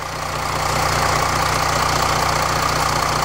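A Mercedes 320 CDI V6 diesel engine idles steadily and loudly, left running for an automatic gearbox oil change, with a constant low hum and a faint rhythmic knock throughout, and no voices.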